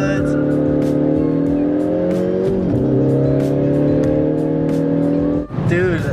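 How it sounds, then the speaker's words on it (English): A Chevrolet Camaro with a ZZP-tuned 2.0L turbo engine drones loudly and steadily, rising and dipping as revs change, heard close from inside the car while people talk over it. "Your turbo's fucking loud, dude."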